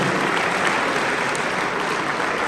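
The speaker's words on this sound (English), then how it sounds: "Clap it up for the volunteers." An audience at a Capital University MLK Day presentation applauds the volunteers, producing a steady, even roar of many clapping hands, sustained and fairly loud throughout with no talk over it.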